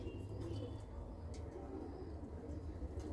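Pigeons in a loft give soft, low coos amid a murmuring background hum, with a hen sitting on her eggs nearby; the calls are faint and repeated, with a few sharp chirps above.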